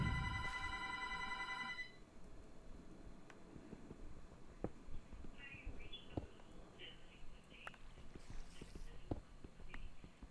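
A telephone bell rings in a Minecraft survival game, a bright harmonic burst lasting about two seconds at the start, then giving way to faint game ambience and scattered clicks.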